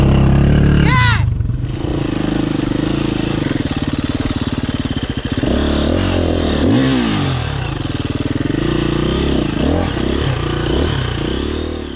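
A KTM hard enduro motorcycle ridden on a trail, its engine loud and close with repeated revving, sputtering and throttle changes and some clattering, a voice briefly audible near the start.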